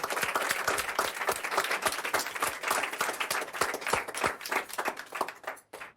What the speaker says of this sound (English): Do we just clap or?